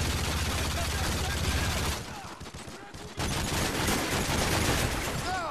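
Rapid gunfire in the video game Modern Warfare 3, Kill Confirmed mode, bursts loud and dense with a brief lull midway before shooting resumes.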